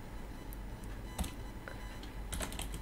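Computer keyboard typing Python code, with sparse separate key clicks in a quiet room, a few short clustered bursts of keystrokes, close and soft.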